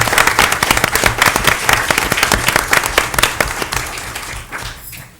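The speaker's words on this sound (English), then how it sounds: "Can we give all of our commissioners a round of applause?" Audience at a city council meeting breaks into sustained applause, dense clapping from a roomful of people that stays loud and then thins out toward the end.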